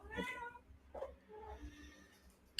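A pet cat gives a few short meows close by, one clear call at the start followed by softer ones, faint and quiet overall.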